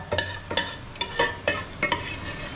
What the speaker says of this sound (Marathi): चिकन फ्राय मस्तपैकी बनत आहे.